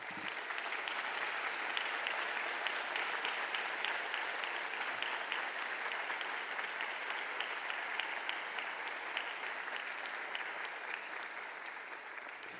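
Sustained applause from a large audience at a December swearing-in ceremony, a dense, even wash of many hands clapping that holds steady for the whole stretch, with no voices rising above it.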